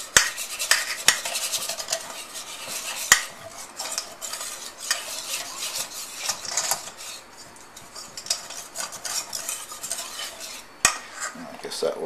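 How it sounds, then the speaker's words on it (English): A whisk beating tempura batter in a bowl, a rapid, continuous scraping clatter of metal against the bowl with a few sharper knocks, close and fairly loud. "To whisk until smooth."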